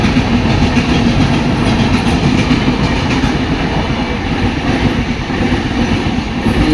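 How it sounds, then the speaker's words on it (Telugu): A train rumbles steadily past nearby, with continuous wheel clatter and roar throughout and no voices. "రెండు ట్రైన్లు అయితే వెళ్తున్నాయి"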